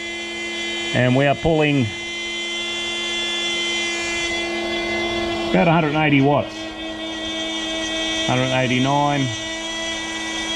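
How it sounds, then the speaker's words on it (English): A blender runs on power from a Giandel 200 watt pure sine wave inverter while a battery charges, producing a steady motor hum with a high whine throughout. Someone speaks briefly over the sound several times. "Now the battery's charging and the blender is running"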